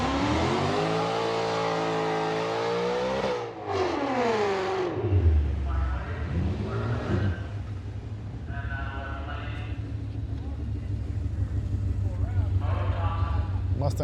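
A Tesla Model S Plaid and a Ford Mustang launch in a street drag race from the start line, with a rising, revving engine roar behind loud voices that talk throughout.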